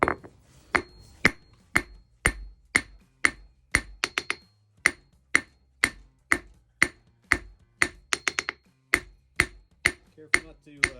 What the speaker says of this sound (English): I'm going to forge the rest of it flat. No need to heat it up, just forge it cold